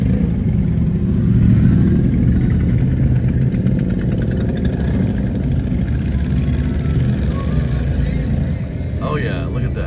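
Motorcycles on Lake Avenue in Geneva on the Lake, Ohio, during the Thunder on the Strip event: loud, steady engine rumble close by, swelling slightly as bikes idle and pass, with people talking over it.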